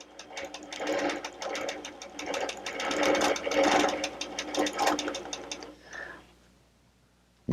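Sewing machine stitching steadily for about six seconds while locking a seam back and forth on a quilt block, a continuous close mechanical whir that stops abruptly near the end, with no talk.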